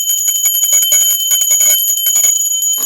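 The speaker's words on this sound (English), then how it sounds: "this is the bell" A metal bell rings in a rapid, continuous high-pitched trill of quick strikes, bright and loud throughout, with shimmering metallic overtones.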